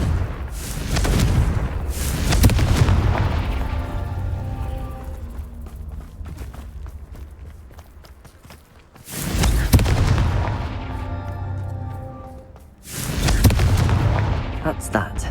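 Fiery Confringo spell blasts in the game Hogwarts Legacy go off as four heavy booming explosions, each swelling sharply and then rumbling away, spaced several seconds apart.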